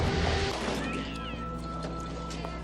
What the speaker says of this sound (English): How's that kitty noise?